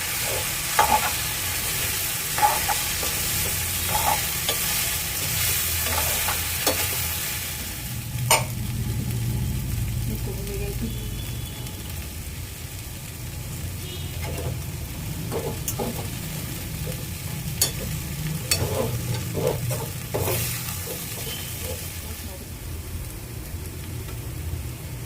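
Potatoes fry and sizzle in a pan for poha while being stirred, a steady close hiss broken by repeated scraping and clinking strokes of the spoon throughout.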